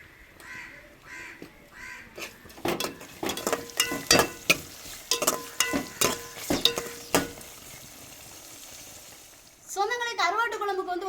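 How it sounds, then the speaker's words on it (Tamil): Chopped tomatoes hit a pan of sautéed onion, green chili and garlic, giving a run of sharp stirring clatters and a sizzle, with a voice talking at the end. "வெங்காயம் பச்சை மிளகா பூண்டுலாம் நான் வதங்கி வந்துச்சுங்க இப்போ வெட்டி வச்ச தக்காளி சேர்த்துக்கிறோங்க"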